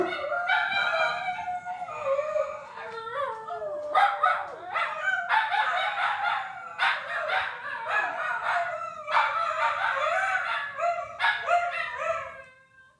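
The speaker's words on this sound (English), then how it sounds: "The dogs are barking." Several dogs bark and howl in loud, overlapping bursts that continue across the whole stretch, with a crowing-like wail among them and no talk over the noise.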